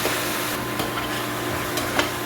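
Food being mashed and stirred in a pan while it cooks, a close, steady frying sizzle with soft scraping and occasional light clinks of the utensil.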